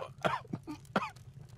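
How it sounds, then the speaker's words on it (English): A man in the video game Deus Ex (2000) coughs close up, two harsh chesty coughs separated by a short throat-clearing rasp, loud and alone over a faint ambient hum. "I brought you something for that cough."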